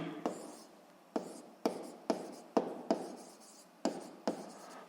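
Handwriting during a school physics lesson, with a pen or chalk making a run of distinct scratching strokes. Each stroke starts sharply and then trails off, in an irregular rhythm, close and fairly loud, with no one talking.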